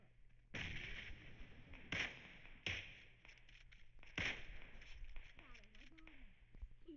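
Gunfire in the mobile battle royale game PUBG Mobile: four sharp, loud shots at irregular intervals ring out over a steady in-game background hum, with a few fainter taps and a voice talking between them.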